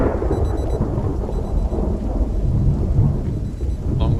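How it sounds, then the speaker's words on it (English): Thunderstorm in the video game Project Zomboid, with loud continuous rolling thunder over heavy rain that holds steady throughout, close and enveloping. "you don't have to listen to the thunder the whole time"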